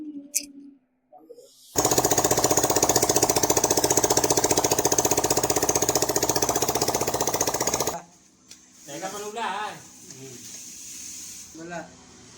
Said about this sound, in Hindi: देखिए अभी सेल्फ दाबते मारते हैं और गाड़ी स्टार्ट हो गया है।